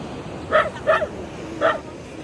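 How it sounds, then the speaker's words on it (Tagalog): A dog barks three times, two in quick succession then one after a short pause, fairly close, over a soft background hiss. "aso."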